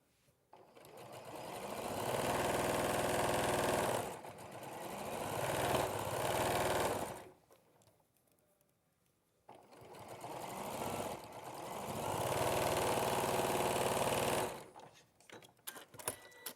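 A sewing machine runs back over a seam in two long bursts of steady, fast motorised stitching, close and clear, separated by a quiet pause with a few handling clicks.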